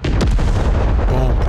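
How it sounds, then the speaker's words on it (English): Bombing strike explosions from the Broken Arrow battle game, a dense barrage of heavy booms and gunfire-like blasts rolling continuously, loud and close throughout. "so we can actually bomb him out, get rid of him quick"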